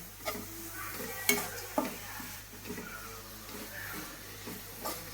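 Ingredients coated in ginger garlic paste and salt are tossed in a pan, giving a low sizzle with scattered scraping and clinking stirs at a moderate distance over a steady background hum.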